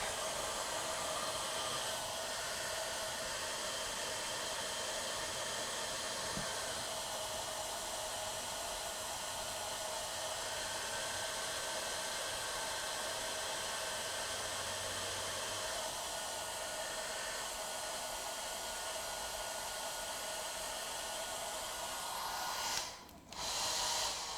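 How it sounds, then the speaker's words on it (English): Hair dryer blowing on an overclocked Intel i7 7700K processor cooled with liquid nitrogen, a loud steady broadband whoosh running nearly unbroken, with a brief dip near the end before it resumes. "if I turn off the hairdryer, then all the heat stays in it"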